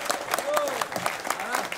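An audience at a sailing race weather briefing gives a short burst of applause, steady clapping heard close and mixed with voices talking.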